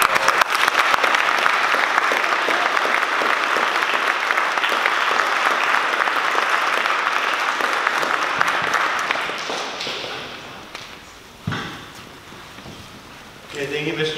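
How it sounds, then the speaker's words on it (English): Audience applause for a scout troop at a ceremony: loud, sustained clapping from a gathered crowd for about ten seconds, then fading out, followed by a few scattered sounds and brief talk. "So please, one more round of applause."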